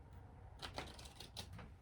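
Tarot cards being shuffled by hand, quick crisp riffles and flicks in a few short bursts, close and quiet with no talking.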